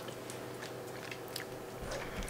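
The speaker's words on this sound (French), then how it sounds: "Ne pas savoir croquer dans la glace parce que..." Crunchy bites into a cold ice cream dessert with a rubbery skin and sorbet inside, close chewing and crunching heard up close, without talk.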